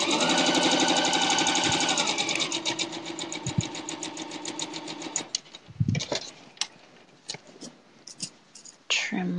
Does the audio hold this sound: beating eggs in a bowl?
no